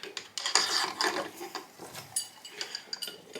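A tool ratchets in quick, irregular clicking bursts while a part is tightened on the crankshaft of a stripped-down Suzuki PV50 engine, close and fairly quiet with brief pauses between strokes.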